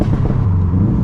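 Subaru WRX STI with a loud Stage 2+ exhaust, a rapid cluster of close, crackling backfire pops over a low engine rumble, heard from inside the car.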